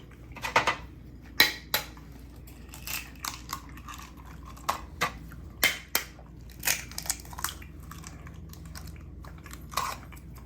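An egg is cracked for fried rice, with a series of sharp, close shell cracks and crunching clicks against a quiet kitchen background.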